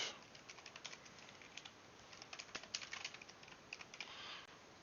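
Quick, irregular clicks of typing on a computer keyboard, faint and close, with bursts of keystrokes and short pauses, no talking.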